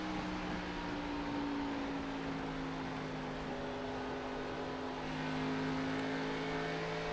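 Race car engine in iRacing at Texas Motor Speedway held at a steady, sustained drone as the car rolls through a long turn, a continuous tonal hum without shifts, fairly faint and alone.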